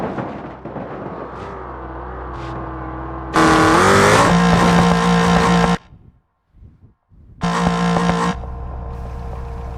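Toy cars speeding down a plastic track, jumping and crashing, make loud bursts of whirring, clattering racing noise in two sharp blocks separated by a brief near-silence, with softer rolling and rattling before the first burst.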